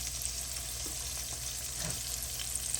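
Whiting fish frying in hot oil for a home fish fry, a steady, close crackling sizzle that holds evenly throughout with no voices.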